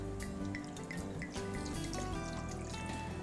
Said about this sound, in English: We'll start by adding the wine to our sauce pot.